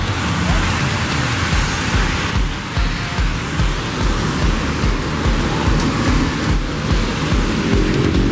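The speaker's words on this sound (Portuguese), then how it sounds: "a chuva caiu bem na hora do pouso." Heavy rain pours steadily at Recife airport as a Lufthansa Cargo Boeing 777F lands, a loud, dense, constant hiss with low rumbling underneath and no gaps.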